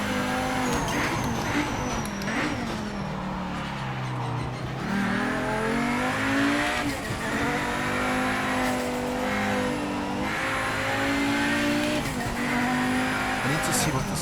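In the Project Motor Racing video game, a race car's engine revs steadily as it rises and falls through gear changes while cornering, with tire squeal and skidding. It stays loud and continuous for the whole stretch, with someone talking over it.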